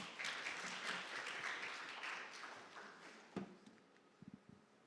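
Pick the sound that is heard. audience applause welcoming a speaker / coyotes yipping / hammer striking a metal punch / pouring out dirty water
audience applause welcoming a speaker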